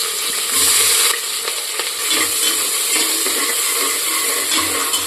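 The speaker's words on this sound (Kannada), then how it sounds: "ಆಮೇಲೆ ಈರುಳ್ಳಿ ಹಾಕೋಣ." Onions frying in hot oil and ghee for chicken biryani, a steady close sizzle with occasional stirring scrapes running throughout without speech.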